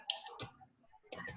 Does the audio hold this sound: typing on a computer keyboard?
yes